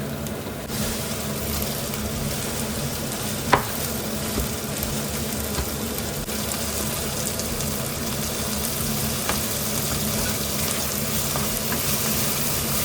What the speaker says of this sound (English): that's the time you're gonna just chop some of those fresh tomato, add to it